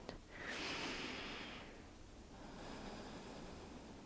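Slow, audible breathing during a yoga hamstring stretch, a single long breathy exhale near the mic, then quieter airy noise trailing off.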